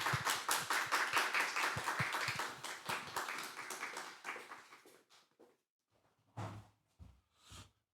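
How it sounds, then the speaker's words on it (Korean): A church congregation at a Wednesday service claps to welcome an elder, a dense burst of applause that is loud at first, then thins into scattered claps and dies out, with a few isolated claps after. "Let's welcome him with a round of applause."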